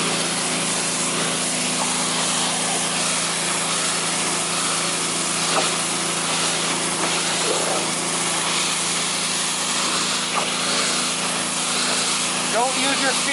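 Power washer spraying a car during a full auto detail, a steady, loud hissing spray running throughout with little change in level.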